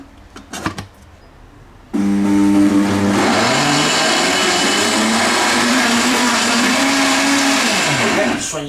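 A blender purees onion with a little water for vegetable juice, starting after a couple of seconds with a loud steady motor whir that holds, dips in pitch and winds down near the end, with brief talk before it starts.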